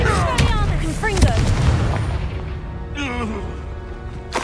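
A Confringo fire spell bursts in Hogwarts Legacy amid magical combat, a booming blast with crackling impacts, overlapping with voices and battle cries.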